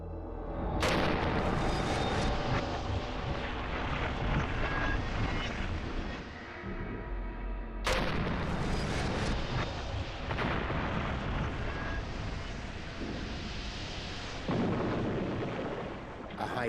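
A model Comet aircraft fuselage is deliberately burst in a pressure chamber, giving a sudden loud bang and a long roaring rush of escaping air, then a second violent burst and more sustained rumbling.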